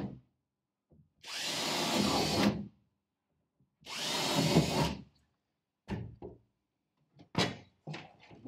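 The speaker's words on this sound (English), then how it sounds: "So I'm going to actually do four drills because I want to keep that piece just in case" Power drill boring holes in a canal boat interior under restoration: two sustained whirring bursts of about a second each, followed by short clunks and knocks of handling, close and moderately loud.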